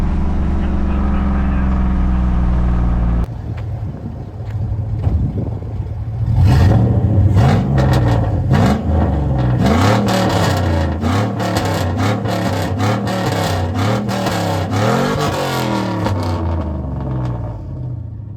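A GMC truck fitted with Scat Pack mufflers idles with a low rumble, then revs hard in a string of rising and falling bursts, loud and close, with a deep throaty exhaust note.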